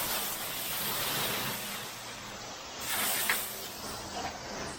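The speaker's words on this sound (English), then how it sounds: "So I'm gonna get in here and spray it." Gas-powered AR45 roof pump spraying water, a steady broadband hiss that runs the whole time, swelling louder near the middle, with faint handling noises and no talk.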